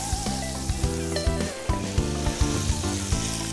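Veal and chicken escalopes for cordon bleu frying in a pan of butter and oil: a steady, dense sizzle with crackling pops, heard under background music.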